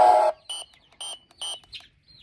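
An alarm beeps in a barn setting, three short loud electronic bursts at an even rhythm after an initial longer blast, followed by fainter chirps.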